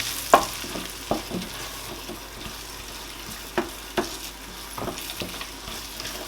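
Ground egusi seeds frying in palm oil with onions for Nigerian egusi soup, a soft steady sizzle broken by repeated scraping and tapping of a spoon stirring the pan.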